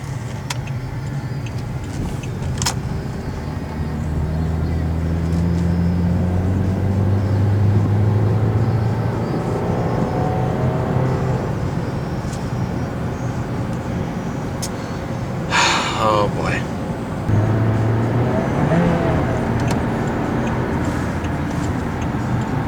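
A Pontiac G6 2.4 driving through town traffic, its engine hum rising and falling with shifts, a steady road rumble underneath and a brief ticking blinker.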